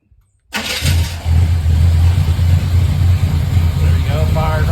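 A 1972 three-door Chevrolet Suburban with Holley Sniper fuel injection cranks briefly and fires up, settling into a loud, steady, rumbling idle up close, with a voice speaking over it.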